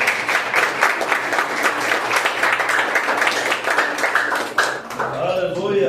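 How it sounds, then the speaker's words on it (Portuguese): A church congregation at an Assemblies of God youth congress claps together in sustained, dense applause that fills most of the moment, then tapers off as a voice begins to speak near the end. "E as palmas do Senhor Jesus."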